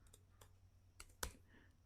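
A few sparse computer keyboard keystrokes click faintly and irregularly, one sharper tap standing out, over a quiet low hum.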